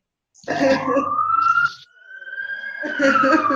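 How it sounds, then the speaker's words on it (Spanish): An ambulance siren's long wailing tone rises and falls, drawn out over a few seconds, sounding fairly close, with a person's voice over it at the start and end. "Ambulancia, Dios mío."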